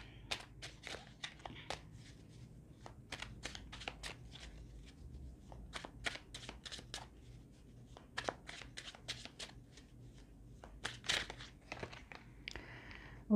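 Playing cards shuffled and handled during a French tarot-style personality reading: a steady run of crisp, separate riffles and flicks spread across the whole stretch, close and moderately loud over a low background hum, with no talking.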